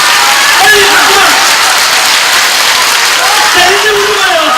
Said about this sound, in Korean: 박수 먼저! 빨리 박수만!